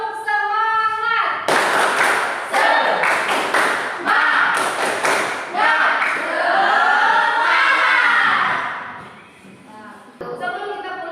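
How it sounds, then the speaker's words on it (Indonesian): A school classroom bursts into a rhythmic group clap in patterned bursts, mixed with chanting voices, during a Catholic religious education lesson. "Tepuk semangat."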